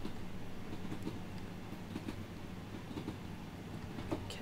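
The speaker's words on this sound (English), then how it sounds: "Let's sit at the back, watch the train curve its way through." A Transpennine Express Class 375 electric train rolls along track in Train Sim World 2, heard from the rear as it curves through: a steady low rumble with rhythmic wheel clicks over rail joints and faint high squeals, no talking.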